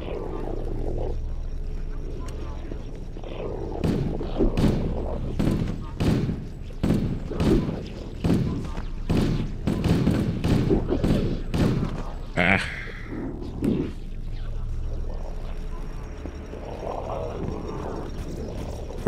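Needler weapon fire in Halo: Combat Evolved, a rapid run of sharp thudding shots and impacts in quick bursts, with someone talking over the action.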